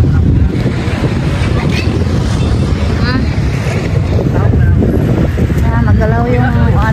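Choppy sea rushing and slapping against a moving boat, a loud continuous roar of water and wind noise, with people talking over it.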